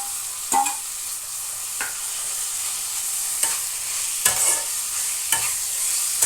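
Marinated chicken goes into a pan of well-browned fried onions, setting off a steady sizzle with a few sharp scraping stirs that stand out over the frying, and no one speaks.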